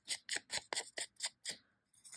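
Scissors cutting paper, seven crisp evenly spaced snips in a quick rhythm, close and quiet, with one more snip after a brief pause.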